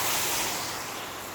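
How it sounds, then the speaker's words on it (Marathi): Overflow floodwater from Tilari dam rushes across a bridge as a loud, steady broadband roar close to the microphone, gradually easing slightly. "तिलारी डॅममधील ओव्हरफ्लो पाणी आहे."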